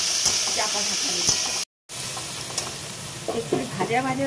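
Mixed vegetables such as carrot, papaya, potato and sweet potato fry in a hot pan, with a steady close sizzle, stirring scrapes and a momentary cut to silence midway before the hiss resumes.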